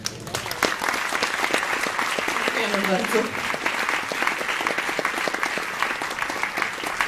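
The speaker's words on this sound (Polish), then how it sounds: "dlatego wielkie brawa dla nich" Sustained audience applause at an architecture festival thanks ceremony, steady dense clapping through the whole stretch while a voice briefly speaks over it.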